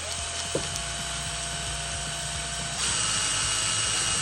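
Toy car axles being sanded with coarse sandpaper on a spinning drill, a continuous whirring motor drone with rough grinding friction that rises in pitch and intensity partway through.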